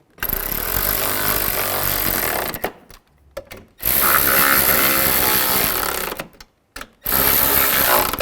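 A ratchet tool snugs down the side mirror bolts on a Nissan Xterra in three long, loud, continuous bursts separated by brief quiet gaps, close up with no talking.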